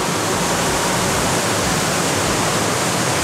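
A waterfall beside a river pours with a dense, steady roar of rushing water, broadband and constant, loud and close with no other sounds breaking through.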